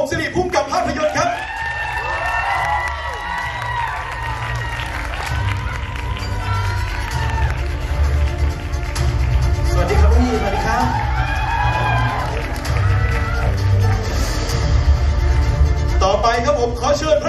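A crowd at a Thai zombie war film's press launch cheers and whoops in welcome to the cast, with loud continuous noise, scattered shouts and an announcer's voice over the top.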